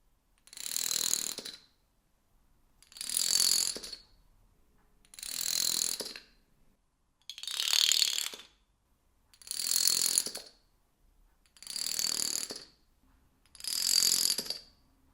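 Dominoes topple in a chain, heard as seven separate clattering runs about a second long each. They come at an even pace with short silent gaps between them.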